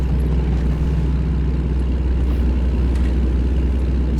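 Heavy truck engine in American Truck Simulator drones steadily at close range, a constant low rumble with road noise and faint air-brake hisses, no voices over it.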